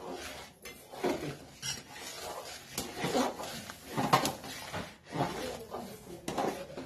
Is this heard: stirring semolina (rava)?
yes